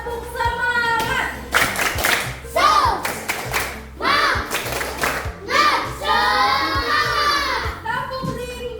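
A school class does the 'tepuk semangat' chant, with children's voices and bursts of rhythmic hand claps alternating in a lively, close, patterned sequence.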